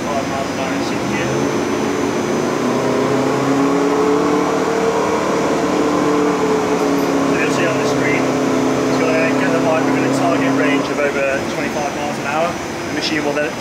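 A Norton motorcycle runs on a factory test rig for brake and power checks at speed in sixth gear, its engine giving a loud, sustained, even drone while someone talks over it.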